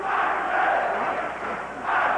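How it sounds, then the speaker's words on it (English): Boxing arena crowd during a late round of the Frans Botha vs Axel Schulz fight, chanting Axel's name in loud rhythmic waves that swell and dip, a dense mass of voices filling the hall. "Crowd once again chanting Axel."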